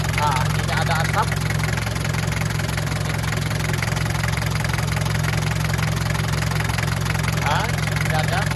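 A 1990 Daihatsu Taft engine idles with a leaking exhaust, a steady low throbbing hum throughout at close range, while someone talks over it.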